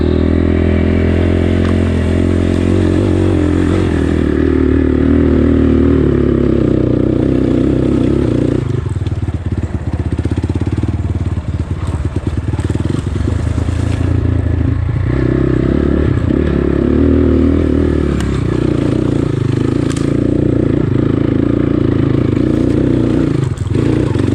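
GPX FSE 250 E motorcycle climbing small off-road hills, its engine loud and close throughout, rising and falling with throttle as it revs and labors, with clattering and scraping over rough ground.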